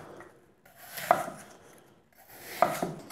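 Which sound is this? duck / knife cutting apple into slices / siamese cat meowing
knife cutting apple into slices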